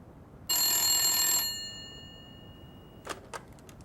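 A telephone bell rings in one bright, sustained burst of about a second, then fades away, followed by two soft clicks in an otherwise quiet room.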